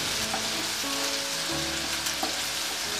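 Onions fry with a pinch of salt in a pan, giving a steady, dense sizzle. A low hum of steady tones runs underneath.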